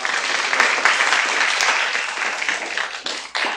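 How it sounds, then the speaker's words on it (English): Audience applause after a lecture by Dr. Steven Pinker on history and the sciences of human nature, dense and steady clapping from a hall full of listeners, loud and sustained throughout before easing slightly at the end. "I want to join me in applause for Dr. Steven Pinker"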